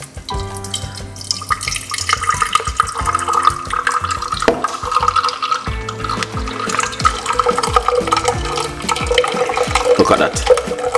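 Strained beetroot juice pours steadily with splashing and dripping, loud and close, mixed with clinks and faint background voices.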